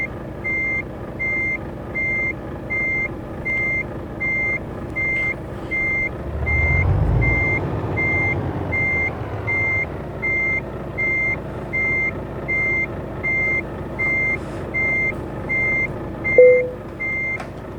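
Truck reversing beeps in the game Euro Truck Simulator 2, a steady evenly spaced series of electronic beeps running throughout, with a low engine swell midway and a short hiss near the end.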